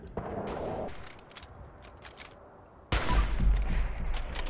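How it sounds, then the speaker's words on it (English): Gunfire in Fallout 4 played on Survival difficulty: a sparse run of sharp shots and impacts, then a sudden loud burst of heavy low-end blasts that rumbles on to the end. "he's blind shooting"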